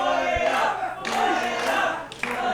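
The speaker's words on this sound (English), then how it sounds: "Crowd making their voices heard here" A wrestling crowd at a PPW show roars and yells in a sustained, loud wave of voices, with a brief thump near the start and swells of shouting.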